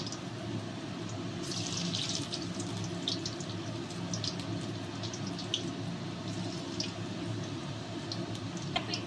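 Vegetable manchurian balls fry in hot oil over a medium flame, giving a steady, low, even sizzle with scattered fine crackles throughout and no talking.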